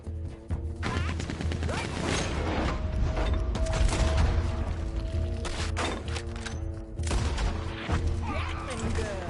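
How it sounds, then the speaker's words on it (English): Gatling gun fire in the video game Red Dead Redemption 2, a loud, dense fusillade of shots and impacts layered over continuous game noise and music for the whole stretch, with voices talking over it. "Gatling gun."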